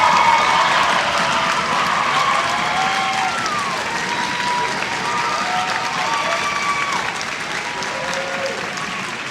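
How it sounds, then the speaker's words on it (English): A concert audience applauds a student teacher after an orchestra performance, with loud, dense clapping from a large crowd sustained throughout and a faint murmur of voices beneath. "Let's please give Mr. McIntyre a big applause."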